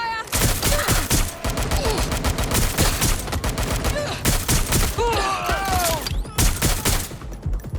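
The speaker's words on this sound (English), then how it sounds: "Gunfire!" Dense, continuous gunfire in the video game Watch Dogs Legion: rapid automatic bursts and overlapping shots, loud and close throughout, with sirens and game sound effects mixed in.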